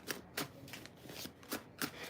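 A thick deck of tarot cards is shuffled close up, several quick riffling bursts in an irregular rhythm, fairly quiet, with no talking.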